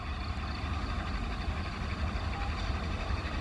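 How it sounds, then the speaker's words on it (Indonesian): A local Garut–Cibatuan passenger train pulls into Pasir Jengkol station, producing a steady, fairly loud rumble with deep low-end weight and a broad wash of noise that holds evenly throughout, with no voices. "ini ada kereta api lokal ya, lokal Garut Cibatuan masuk stasiun Pasir Jengkol"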